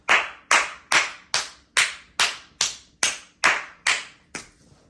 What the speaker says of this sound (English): Clapping just like that.